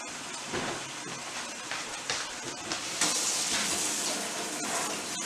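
Butter melting in a pan for hot wing sauce gives a steady, close sizzling hiss with faint crackles throughout, growing slightly louder partway through, with no talking.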